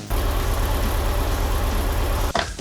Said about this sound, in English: the engine fired up first flick of the key